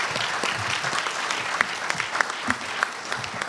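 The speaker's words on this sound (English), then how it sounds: "Let's give a round of applause for all the speakers again." An audience at a talk on 3D printing technology applauds the speakers, a sustained round of dense clapping with a few sharper individual claps standing out.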